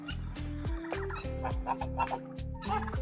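Domestic turkeys gobbling and other poultry clucking at close range, a dense run of repeated gobbles and calls overlapping one another throughout.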